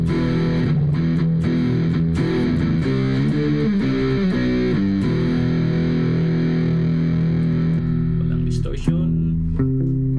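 Electric guitar played through the distortion effect of the Amplitube 3 amp simulator, thick sustained distorted chords and riffs, loud and continuous, cutting off near the end.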